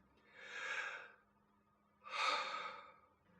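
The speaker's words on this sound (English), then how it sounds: "Normally you would breathe in and out like this." Normal breathing shown as two slow, even breaths in and out, close and soft, each lasting about a second with a brief pause between, and nothing else heard.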